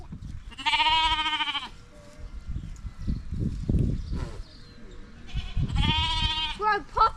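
Goats on a New Zealand farm bleat in two loud, drawn-out calls near the start and end, with background talk and farmyard noise in between.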